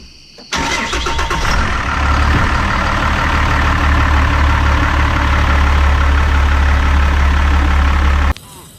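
A 1000-horsepower Cummins diesel engine cranks and fires after a short pause. It then settles into a loud, steady, rumbling idle that holds close and unbroken until it cuts off near the end.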